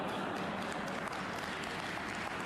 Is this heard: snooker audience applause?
yes